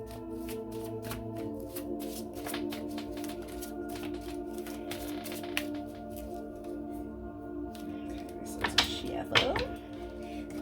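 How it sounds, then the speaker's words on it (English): Tarot cards are shuffled repeatedly in quick, crisp riffling bursts, close and clear, with a steady hum in the background and a couple of louder thumps near the end. "This is Shuffle for Scorpio,"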